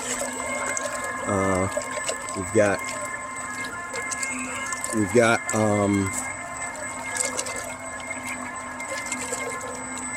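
A DIY underwater thruster runs steadily in a bucket of water, giving a continuous hum and churning with a steady tone, while someone talks briefly over it.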